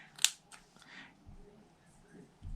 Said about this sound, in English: And then I'm just going to cut a banner.